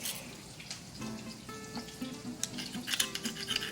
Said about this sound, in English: I want you to whisk that up till it's really nice and smooth.